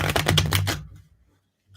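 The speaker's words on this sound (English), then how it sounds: "My wrists and fingers are hurting from shuffling." Tarot cards are shuffled close by in a quick run of rapid riffling flicks lasting under a second, then the sound cuts off into near silence.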